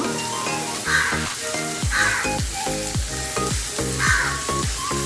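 Chopped onions sizzle steadily in a hot pan of oil for a quick poha breakfast, a continuous close frying hiss with occasional scraping stirs and no talking.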